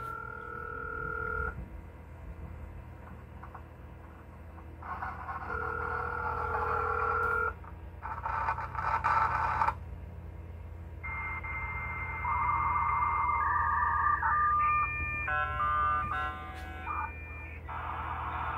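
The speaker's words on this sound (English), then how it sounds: "We're gonna try dialing into something. Okay, dial." Telephone keypad tones dialing out on a phone line being set up for dial-up internet, a run of steady beeps and tone pairs sounding one after another over a constant low line hum, with no talk.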